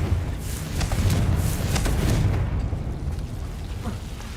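A fiery Confringo spell blast in Hogwarts Legacy, a deep rumbling boom with several crackling bursts layered over low roar, swelling then fading over a few seconds.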